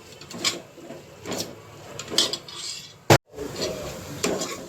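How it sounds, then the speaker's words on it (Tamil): Mutton biryani masala being sautéed in a pan, with soft repeated scraping and stirring strokes roughly every second, a short sharp clatter near the end, and a low sizzling background. "நல்லா எல்லாமே சேர்த்து வதக்கிட்டு இருக்கோம்"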